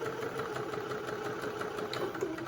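Quiet, steady whirring hum of a sewing machine stitching a seam on an infinity scarf, with a fast rhythmic needle patter running throughout.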